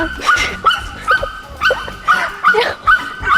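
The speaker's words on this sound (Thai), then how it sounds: "น้องเห่าเสียงดังมากเลย" A dog at a tent campsite in Nakhon Nayok barks loudly in repeated sharp bursts, about eight barks with short yips between them, close by with no talk over it.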